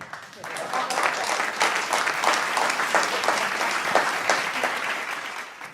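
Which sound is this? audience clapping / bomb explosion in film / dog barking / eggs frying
audience clapping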